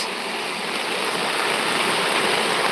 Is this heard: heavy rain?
yes